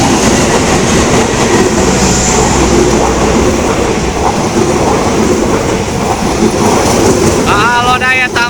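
A Lodaya passenger train rolls through a railway level crossing (JPL 383) near Gayam, Ciamis, loud and close, with a continuous rumble and rhythmic wheel clatter, ending in a brief high squeal.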